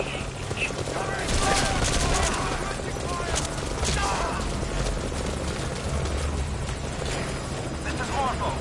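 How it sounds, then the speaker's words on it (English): Rotor thump of a damaged helicopter under gunfire in Metal Gear Solid Ground Zeroes, a steady loud whir with bursts of rapid automatic fire layered over it and voices talking throughout. "I've taken fire. Some damage to chopper."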